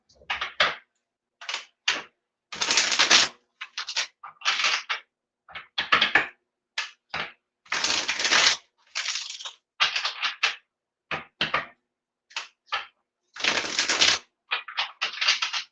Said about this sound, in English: I pay attention when I'm shuffling to see how the cards shuffle, like how they feel